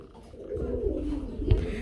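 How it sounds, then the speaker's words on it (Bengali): A female pigeon coos softly at close range in a bird farm setting, giving a low, throaty murmur with a brief louder pulse near the end. "এটা হচ্ছে মাদি কবুতর বন্ধুরা, নরের জন্য ওয়েট করতেছে"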